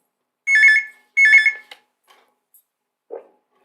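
A telephone rings with an incoming call on a live phone-in program, giving two loud, close, bright electronic ring bursts followed by faint clicks and a short low thump.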